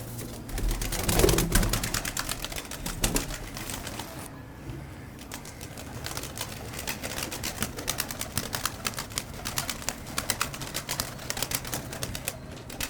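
Pigeons kept by a hobby breeder make a busy mix of rapid wing flaps and clicking, clattering bursts, with a loud flurry near the start and steady fluttering activity throughout.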